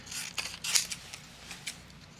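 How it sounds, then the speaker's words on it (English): Scissors trimming paper for a mixed media card, a few short close snips and rustles in a quiet room. "I'm just going to trim around here. I can trim this one away"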